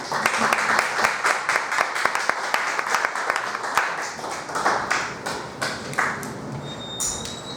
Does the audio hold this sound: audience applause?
yes